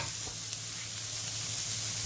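Shrimp with holy basil stir-frying in a hot pan, a loud, steady, close sizzle with dense crackling throughout and no pauses.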